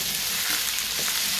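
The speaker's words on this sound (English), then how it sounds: "So she's frying it" Sliced okra and onions fry in a hot pan with a steady, loud, close sizzle and a faint stir partway through. No voices are heard.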